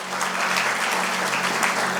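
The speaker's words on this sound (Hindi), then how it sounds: "ताली बजाइए प्रभु के लिए" A church congregation claps together in praise, a dense, steady burst of many hands applauding at close range for about two seconds.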